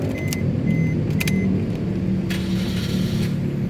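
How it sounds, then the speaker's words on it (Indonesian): A 2016 Suzuki Ertiga 1.4 GL automatic starts up and settles into a steady, close engine rumble, with a few light clicks and rattles on top. "nah kita nyalakan mobil"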